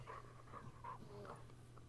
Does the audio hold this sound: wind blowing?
no